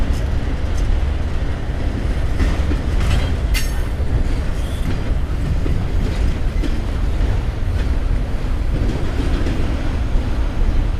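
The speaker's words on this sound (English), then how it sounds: "Over on the far side, another CSX coal train rolling through." A heavy CSX coal freight train rumbles past at a rail yard with continuous rolling roar, rail clatter and occasional wheel screeches, loud and near for the whole stretch.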